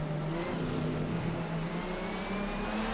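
A V12 racing car engine in the Assetto Corsa racing game holds a loud, steady drone throughout, its harmonic pitch climbing gradually as it revs, alone with no talk.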